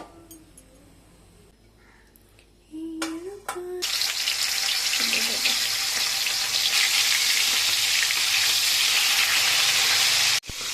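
Pieces of fish fry in a pan of hot oil, a loud, steady, close sizzle that starts abruptly after a few quiet seconds with metallic clatter and runs almost unbroken to the end.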